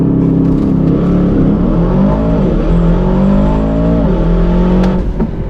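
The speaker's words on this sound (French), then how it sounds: "Maintenant on a un launch control sur ce 707. Pied sur le frein, pied sur l'accélérateur." An Aston Martin DBX 707 SUV launches hard under launch control, its engine roaring loudly and steadily as it climbs through the revs.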